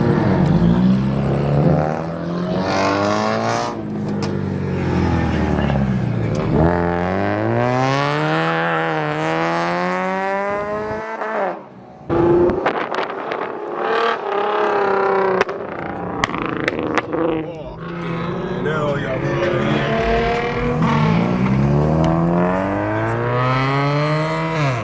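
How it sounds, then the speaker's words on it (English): A BMW G20's exhaust revs hard and repeatedly at a car meet, loud and close, climbing and falling in pitch with each pull, with a brief drop before more sustained revving. "If you don't know what time it is, it's exhaust time."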